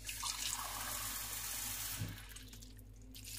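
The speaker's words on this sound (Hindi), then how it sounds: "मैं इसमें ठंडा पानी डालूंगी" Cold tap water runs in a steady gush over freshly boiled chicken spaghetti in a strainer, the splashing easing into a softer flow near the end, with no talk.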